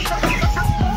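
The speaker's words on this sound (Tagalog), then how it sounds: "So may inahin tayo dito na nag-iitlog." A laying hen gives a quick run of short, throaty clucks, close and fairly loud, over a brief second of farmyard noise.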